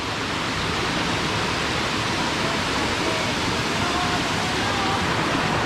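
A waterfall on Mount Washington roars as a loud, dense, unbroken rush that fills the whole clip.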